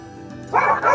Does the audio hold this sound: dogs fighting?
yes